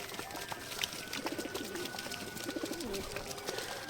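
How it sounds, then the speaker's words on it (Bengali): Pigeons at a breeding loft coo softly in a steady, rhythmic series, close by, with faint background noise and no talking. "দেখো পায়রা দুটো অনেক সুন্দর"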